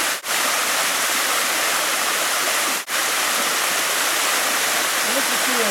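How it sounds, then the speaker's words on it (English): Jones Gap Falls, a waterfall near a campsite, roars as a loud, constant broadband rush, briefly broken twice by cuts. "Get ourselves a waterfall"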